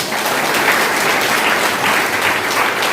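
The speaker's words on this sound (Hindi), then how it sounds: "एक बार ताली होनी चाहिए सबके लिए" At an RCM business seminar in Ludhiana, an audience welcoming first-time attendees breaks into loud, sustained applause, a thick, even wash of many hands clapping together for the full stretch.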